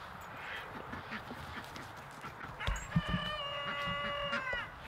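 Ducks quacking in the morning near a pond with water bamboo, faint and somewhat distant calls that grow into a cluster of nasal quacks in the latter half, over quiet outdoor ambience.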